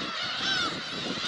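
Black-tailed gulls call nearby, a short outdoor clip with one or two clear mewing, honk-like cries standing out over a steady background hiss.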